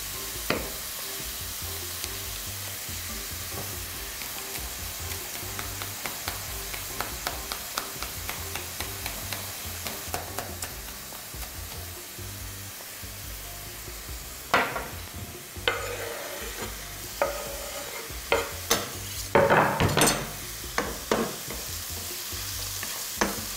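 Onion fries in a pan for Berekh soup, a continuous close sizzle with scattered scraping stir strokes and louder clacks toward the end.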